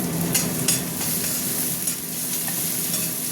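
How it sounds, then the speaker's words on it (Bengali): Meat frying with onions in a pan for a red, spicy chicken curry, a loud continuous sizzle broken by a few stirring scrapes, with no voices. "পেঁয়াজের সাথেই আমি মাংসটাকে একটু ভাজি"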